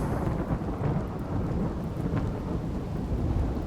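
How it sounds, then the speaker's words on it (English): Steady heavy rain with low rolling thunder rumbling throughout in the video game RimWorld, a dense continuous wash of noise with no voices. "Yeah, there's the rain."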